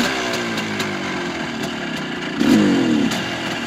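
A Voskhod 3M-01 two-stroke motorcycle engine running slightly lean, a close steady buzzing idle with a brief rise in revs near the end.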